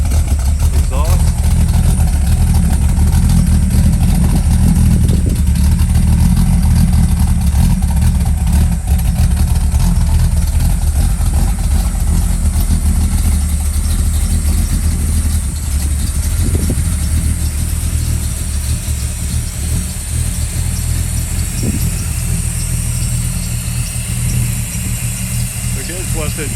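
A 1968 Pontiac Firebird with a 4-speed idles steadily at the exhaust, a deep continuous rumble close by with no revving and no talk.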